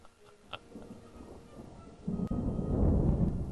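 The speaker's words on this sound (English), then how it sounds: "looks like there's storm on horizon." Thunder from a storm on the horizon rolls in as a low, grumbling rumble, swelling louder over the last seconds with a brief crackle at the start and no voices.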